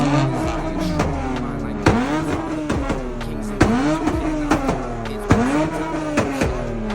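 Cars at a night car meet rev and rasp nearby in repeated sharp bursts, engines climbing and dropping again and again while no one speaks.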